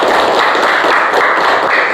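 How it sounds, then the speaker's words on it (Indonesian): Classroom applause for a student, a steady dense wash of many hands clapping together, loud and continuous throughout with no voices over it. "Tepuk tangan dong buat Restu."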